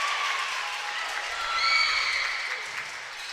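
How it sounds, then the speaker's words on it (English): A vocal home crowd cheering and applauding at a Green Wave high school basketball conference tournament game, a sustained wash of cheers swelling briefly midway, heard from within the gym. "Very vocal crowd here for the Green Wave here."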